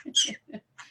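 A pet bird gives a few short chattering calls, close and clear, in three quick bursts separated by brief silences.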